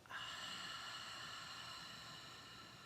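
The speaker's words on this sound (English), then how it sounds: "Intentionally breathing in to hear the breath," Slow, deliberate inhalation drawn in through the nostrils during a guided yoga and mindfulness session, a steady airy hiss heard alone and close, sustained evenly across the whole stretch.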